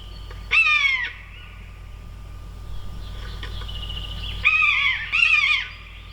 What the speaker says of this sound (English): Let's see what a Buzzard sounds like.